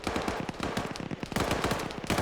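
Rapid gunfire in a tactical shooter video game match: a dense, steady run of sharp, loud bursts that repeats across the whole stretch, with no talking.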